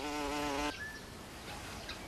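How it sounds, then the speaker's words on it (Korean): A bumblebee, a hairy carder bee, buzzes close by in one steady loud drone that cuts off abruptly, followed by quiet outdoor ambience. "이 녀석은 뒤형벌의 한 종류인 호박벌입니다"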